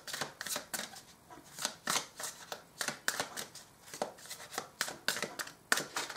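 Oracle cards shuffled by hand for a reading, a steady run of crisp riffling and slapping bursts repeating roughly every half second, close and fairly quiet with no talking.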